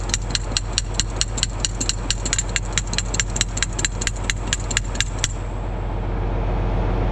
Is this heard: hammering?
yes